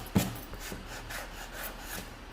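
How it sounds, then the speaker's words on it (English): Hand sanding lightly smooths a wooden mirror frame where wood glue was applied. Soft, rhythmic rasping strokes repeat close by, with a single sharper knock near the start. "what I'm doing now is I am sanding, just a light sand"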